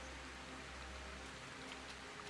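Steady rain falls in the feudal-Japan survival game Sengoku Dynasty, a dense, even hiss of drops with no voices over it.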